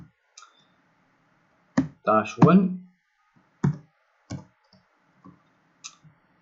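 Someone types on a computer keyboard: sparse, close clicks and short clusters of keystrokes separated by quiet pauses, with a brief murmur of speech among them.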